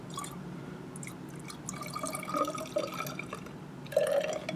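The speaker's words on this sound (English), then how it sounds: "as I'm putting in the water, water is mixing with my base and diluting my sodium hydroxide." Water poured into a sodium hydroxide solution to dilute it in lab glassware makes soft, close trickling and dripping sounds with small gurgles over several seconds.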